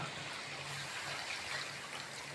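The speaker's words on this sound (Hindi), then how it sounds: "पानी डालेंगे।" Water is poured into a cooking pot during recipe preparation, a faint, steady trickling and splashing stream that runs continuously with no talk over it.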